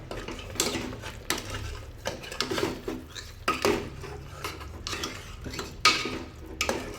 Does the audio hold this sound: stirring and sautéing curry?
yes